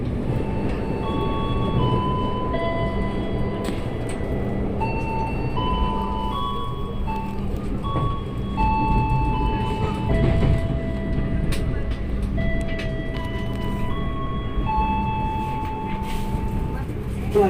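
Interior of a moving KAI (PT Kereta Api Indonesia) commuter train on an Indonesian railway, a steady rolling rumble with squealing wheel and brake tones, running under an onboard announcement voice.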